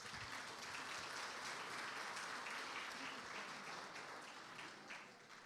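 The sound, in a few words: applause for volunteers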